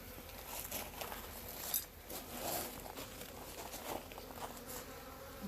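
Honey bees drone steadily around an open hive in a bee yard, a soft continuous buzzing with faint passing insects and light handling noises, fairly quiet and without talk.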